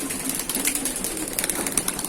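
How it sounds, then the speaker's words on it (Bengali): Pigeons feed on a homemade mixed grain feed, with soft cooing and scattered light pecking ticks close by over a steady background. "তো পায়রাকে দিলাম পায়রাগুলো খাচ্ছে"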